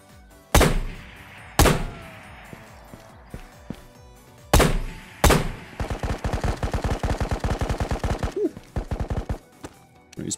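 Video game gunfire: several heavy single shots with sharp loud reports, then a rapid sustained automatic burst of panicked firing, ending with a few more spaced shots, close and loud, no talking.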